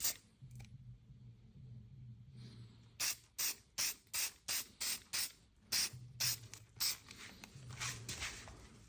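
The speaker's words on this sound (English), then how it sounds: "Put one thin coat of adhesion promoter on" Aerosol can spraying adhesion promoter onto GMC Sierra truck trim in a series of about eight short hissing bursts at a steady rhythm, close up, with a faint low hum underneath and no talk.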